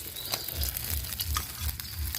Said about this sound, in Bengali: মাছ ভাজা হয়েছে, এবার আমি মাছটা তুলে নিচ্ছি